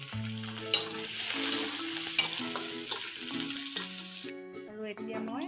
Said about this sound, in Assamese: আলুখন অকণমান ভাজিবলৈ আলু মই দি দিছোঁ